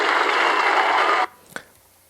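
An audience gives loud, dense applause that cuts off abruptly after a little over a second, followed by a single faint knock and near quiet.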